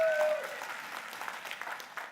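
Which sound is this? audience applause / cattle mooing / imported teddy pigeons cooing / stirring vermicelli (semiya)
audience applause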